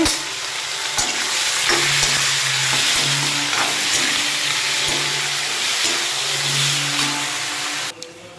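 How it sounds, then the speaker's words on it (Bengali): Mango chutney with turmeric, salt and panch phoron simmers and sizzles in a pan, a continuous close frying hiss broken by regular scraping strokes of a spoon. "পাঁচফোড়ন দিয়ে সুন্দর করে রান্না করছি আমের চাটনি"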